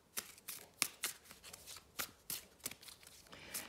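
Tarot cards are shuffled and laid out by hand: a rhythmic series of crisp, close riffling bursts and slaps spaced roughly every third of a second, quiet overall, with no speech.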